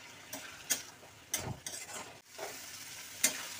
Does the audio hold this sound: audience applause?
no